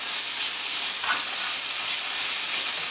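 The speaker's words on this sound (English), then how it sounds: "let's add in our garlic now, and it's about 1 tablespoonful of chopped garlic" About a tablespoon of chopped garlic hits caramelized onions in a pan for a beef stew, giving a steady, close, bright sizzle throughout with no talking.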